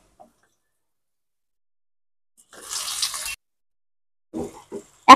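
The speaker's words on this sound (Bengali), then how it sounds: "এখন দিয়ে দেব ম্যারিনেট করে রাখা চিকেন" Marinated chicken goes into browned, crisp-fried onions in a pan for wedding-style chicken fry, giving a short burst of hissing sizzle that quickly fades, followed by a few soft knocks and clinks.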